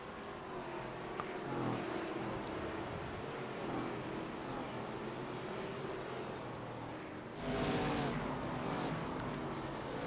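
ARCA race cars lapping the short track at Langley in a racing video game, a steady engine drone with louder surges as cars pass close around 2 s and 8 s.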